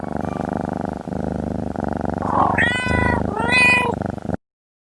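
Warm, fuzzy toy lap cat purring in a steady rhythmic rumble, then giving two loud, clear meows near the end before the sound stops abruptly.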